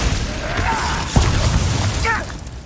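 Glacius freezing spell cast in the game Hogwarts Legacy, a crackling whoosh with a short thump partway through and a brief rising shimmer near the end, under steady combat background.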